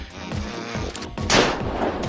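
An iron-sighted Van 98 bolt-action rifle fires in the survival game Unturned, a sharp close gunshot punching out partway through amid game noise, with a brief crack and short tail.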